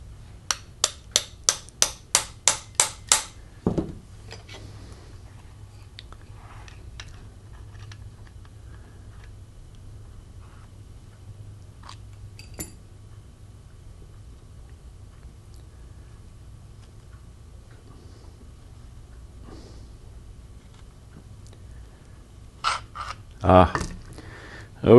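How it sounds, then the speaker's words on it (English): A quick run of about eight sharp metallic taps drives a screw extractor into a stuck part of a Smith & Wesson 78G air pistol. A long quiet stretch follows, then a few scattered clicks and knocks near the end. "I've got a screw extractor here. We're going to see what kind of damage we can do with that."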